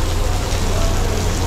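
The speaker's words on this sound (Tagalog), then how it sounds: "Malakas po yung ulan. Biglang bumuhos dito." Heavy rain suddenly pours down outdoors, a dense, loud, continuous hiss of downpour with a low rumble underneath, steady and close throughout.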